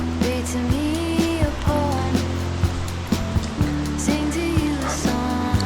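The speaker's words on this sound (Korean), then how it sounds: "설악 폭포입니다." Steady rushing water of Seorak waterfall on Seoraksan mountain in autumn, a broad continuous roar, with faint intermittent tonal sounds layered over it.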